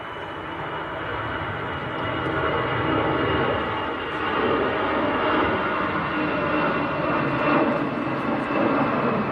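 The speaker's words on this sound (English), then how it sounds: "Lufthansa on the roll. Very early rotation." Lufthansa Airbus A320 jet taking off at Manchester Airport, a loud, steady broadband engine roar that swells slightly and holds throughout, with no voices.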